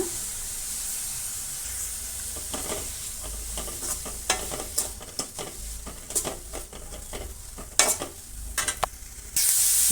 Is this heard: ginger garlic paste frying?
yes